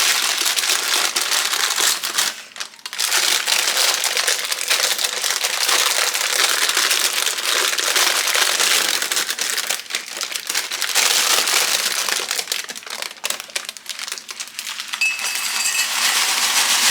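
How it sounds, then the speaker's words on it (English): Homemade granola pours from parchment paper into a gallon glass jar: a long run of crisp rattling, clinking and paper crinkling, loud and close, with short pauses between bursts and no talking. "Now that the granola has cooled down, it's time to pop it into the jar"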